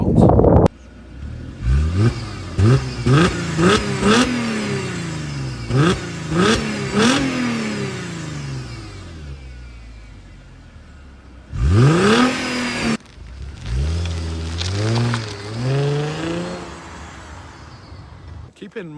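A stock car bought at auction revs repeatedly, its engine note sweeping up and falling back in a run of sharp bursts, then a pause before a few more loud rising revs, heard up close with no one talking.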